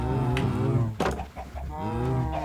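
Cow mooing in a video game: two deep, drawn-out moos close by, separated by a brief rustle.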